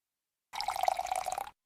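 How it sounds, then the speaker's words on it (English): Warm water pours into a big bowl of flour for pizza dough, a steady close splashing stream lasting about a second that starts and stops abruptly. "Pour the warm water inside."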